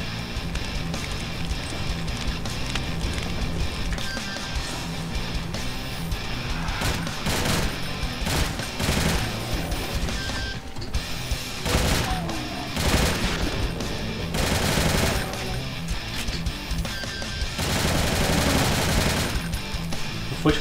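Rapid gunfire in a Doom mod played in GZDoom, set in a hell keep level, with long bursts of loud shots and heavy impacts repeating in waves, mixed with game music and effects.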